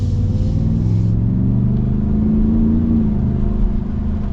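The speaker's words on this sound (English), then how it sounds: "it is a supercharged V8" A supercharged V8 in a Shelby Super Snake Centennial truck accelerates on wet roads, a loud, close, steady low engine roar that climbs gradually in pitch, with no talk over it.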